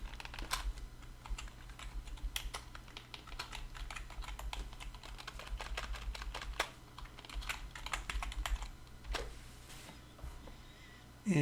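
Quiet, steady typing on a computer keyboard, a dense run of close key clicks over a low background hum, with no voices.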